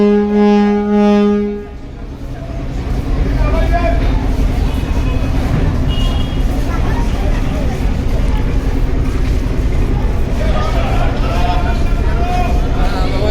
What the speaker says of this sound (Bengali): এমবি ফারহান সাদ ভায়া লঞ্চটি চলে যাচ্ছে বরিশাল ঘাট থেকে